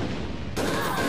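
Bursts of gunfire and explosions in the online shooter game APB Reloaded form a dense, loud, continuous barrage that briefly intensifies midway.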